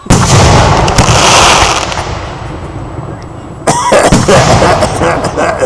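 Outdoor fireworks display at Waupun, loud close crackling bursts and booms that rumble and fade, then a fresh sharp volley of crackles, with faint voices in the crowd.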